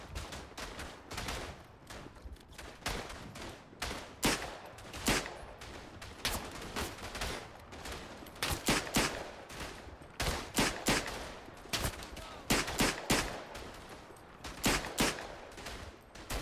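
Lewis gun machine gun firing in the WWI shooter Verdun, with repeated bursts of rapid automatic fire and shots from other guns, loud and steady across the whole stretch with no talk.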